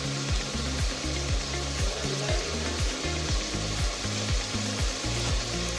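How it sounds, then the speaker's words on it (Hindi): Minced meat keema for a Lahore-style recipe fries in a pan, a constant close sizzle broken by quick, evenly repeated scraping strokes as it is stirred. "बस 5 मिनट में हमारी भुनाई इस कीमे की हो जाएगी।"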